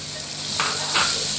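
Green chili paste frying in masala for a black chickpea curry, a steady sizzle with two brief scraping stirs of a spoon in the pan, fairly close and without talk.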